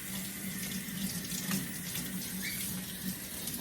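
Room-temperature tap water runs steadily from a faucet as orchid leaves are rinsed of soap suds, a close, soft, continuous splashing stream with no one speaking.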